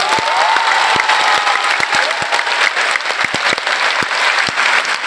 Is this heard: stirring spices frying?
no